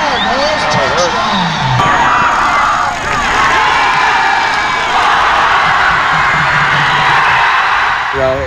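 A crowd roars and cheers a touchdown at a high school football game between Greenwich and Fairfield Prep, loud and sustained with shouts and whoops, while a voice talks over it.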